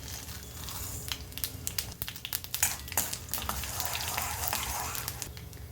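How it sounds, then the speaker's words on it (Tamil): Chana dal and mustard seeds frying in hot oil in a kadai, a soft steady sizzle with scattered crackling pops and stirring scrapes, fairly quiet and close. "எண்ணெய் சூடானதுக்கப்புறம் இதில் கடலைப்பருப்பு கடுகு பருப்பு"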